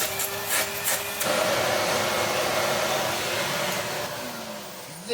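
A Hoover Portapower S1248 vacuum cleaner runs with a steady, loud broadband roar of blowing air, briefly shifting in pitch early on before settling into a continuous rush.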